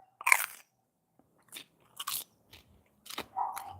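Crunchy pizza crust topped with sauce, pineapple and hot honey drizzle is bitten into, giving several close, sharp crunching bites with chewing between them and quiet pauses.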